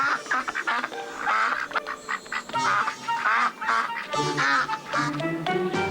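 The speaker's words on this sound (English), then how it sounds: "Duh is for some friends of ours. Ducks." Ducks quack repeatedly in a busy, overlapping chorus, loud and close, with nasal calls tumbling over one another throughout.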